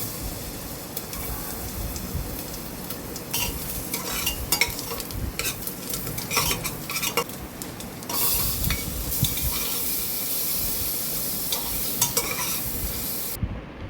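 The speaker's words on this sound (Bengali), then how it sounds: "রসুন আর পেঁয়াজটা কিন্তু খুব ভালো করে আমি ভেজে নেব বাটারের সাথে" Chopped garlic and onion frying in butter inside a pressure cooker, a loud continuous sizzle with repeated scraping and stirring of the spoon against the metal pot, close up.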